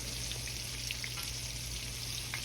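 Fish cakes made from leftover fish frying in a pan, giving a continuous bright sizzle and crackle with scattered small pops, close and steady, with no voices.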